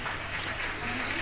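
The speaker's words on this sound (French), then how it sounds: "ils ont déjà commencé pour le deuxième spectacle et ils sont en train d'applaudir" Audience applause at a stage performance, a steady wash of clapping before the second show begins, moderately loud and continuous with a voice speaking over it.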